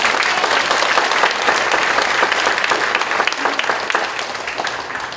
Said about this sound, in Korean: 여호와 하나님께 영광의 박수 올려드리겠습니다